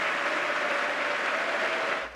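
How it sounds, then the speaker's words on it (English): Republican lawmakers applauding in the House chamber during a presidential address, a steady dense wash of clapping from a large crowd that holds level for about two seconds before cutting off. "Republicans applauding while some Democrats booed"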